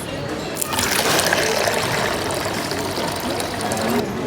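Free drinking water pours from a dispenser in an IKEA store, a steady close trickle and splash running for several seconds.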